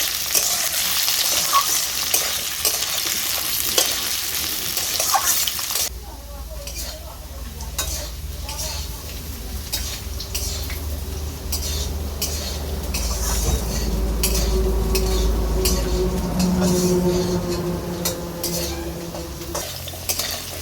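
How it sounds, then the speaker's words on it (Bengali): Potato pieces for a pumpkin-and-potato vegetarian dish fry and are stirred in a pan. A bright sizzle gives way to scraping and clinking of a utensil against the pan over a steady low fry. "আলুর টুকরোগুলো দিয়ে দিচ্ছি। হালকা নেড়ে চেড়ে নিচ্ছি।"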